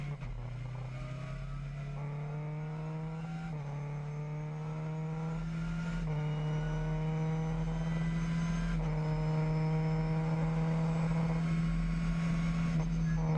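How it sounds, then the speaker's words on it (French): A Lamera Cup race car at the Red Bull Ring accelerates hard with a loud, steady engine roar, climbing through the gears in several rising sweeps with brief shift dips, heard from on board without talking. "on met toute la puissance de cette Lamera Cup pour arriver au virage numéro 3."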